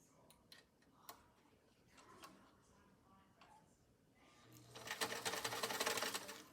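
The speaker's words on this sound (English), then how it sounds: "get it to sew through the 3 layers of terry cloth" A vintage Singer Spartan 192k sewing machine stitches through layers of terry cloth after a few scattered clicks, running in a loud, fast burst for about two seconds close by.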